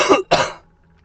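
A person coughs twice in quick succession, close and loud, the two harsh bursts separated by a short gap and followed by quiet.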